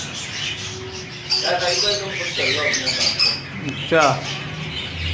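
Caged canaries at a bird shop in Baldia Town chirp and squawk in short bursts, close by, while people talk over them.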